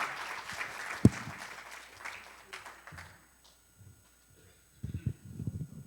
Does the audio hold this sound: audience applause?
yes